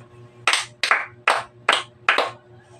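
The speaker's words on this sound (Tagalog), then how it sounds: "Mahusay, maaari ba natin siyang bigyan ng 5 palakpak?" A class of students claps together in a classroom, five sharp, evenly spaced claps in unison, loud and close with no talking over them.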